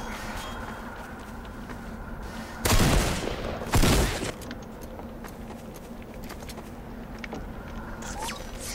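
Two loud, broad gunshot bursts from a weapon in the game Garry's Mod, close together around the middle, set against a steady droning game background with no talk.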